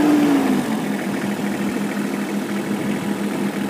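Massey Ferguson 1526 compact tractor, a 2018 model, with its diesel engine running at a steady idle close by, giving a constant low chugging rumble with no talk over it.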